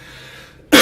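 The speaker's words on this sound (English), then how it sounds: "this cough is killing me" A single sharp, loud cough bursts out at the very end after a stretch of near silence.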